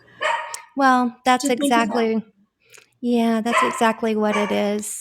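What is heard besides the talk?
dog barking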